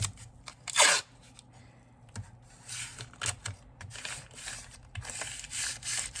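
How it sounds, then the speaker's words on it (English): Masking tape tears off the roll with a sharp rip near the start, then crinkles and rasps in short bursts as layers are wrapped around the handguard of a Maple Ridge Armoury Renegade pump-action. "I took masking tape like this, and I put 3 layers of masking tape on the handguard like this"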